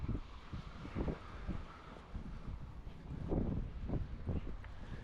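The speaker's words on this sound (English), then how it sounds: "the wind is really strong" Strong wind gusting across an outdoor microphone during a mantrailing session with a dog on a road, a steady rumbling roar with repeated louder buffets throughout, no voices.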